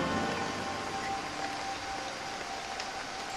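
Heavy rainforest downpour pours down in a steady, dense hiss that holds at an even level throughout, with no distinct drops or pauses.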